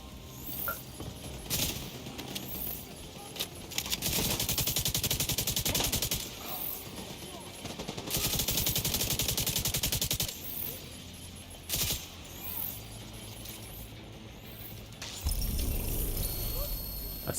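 An automated turret in The Division 2 fires long, loud bursts of rapid gunfire, broken by short pauses, with other shots scattered between them and someone talking over the shooting.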